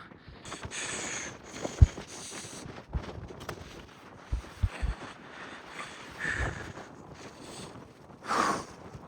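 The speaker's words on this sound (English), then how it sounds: "The wind is killer, but we're chilling." Strong gusts buffet a climber's microphone on the exposed north ridge of Capitol Peak, rough blustery rumbles rising and falling in irregular bursts with thuds of movement and no clear speech.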